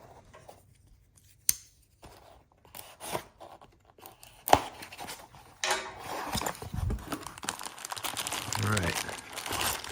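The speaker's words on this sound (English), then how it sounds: "Let's go ahead and unbox the Shell Air Angle Die Grinder." A Shell air angle die grinder comes out of its box: close cardboard and plastic crinkling, tearing and a few sharp knocks, loudest toward the end, with a brief spoken remark early on.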